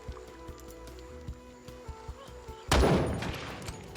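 A single sharp gunshot rings out in Jagged Alliance 3 after a stretch of quiet ambient game ticks and clicks, loud and abrupt with a short decaying tail.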